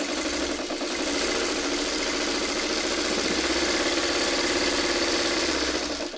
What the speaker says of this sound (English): So we're gonna sew across just like this.